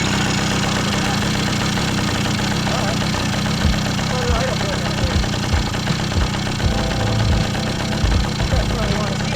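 A Yamaha PW80 dirt bike's small engine idles on a new piston, giving a steady, rough low rumble with occasional knocks close by, and voices speak over it.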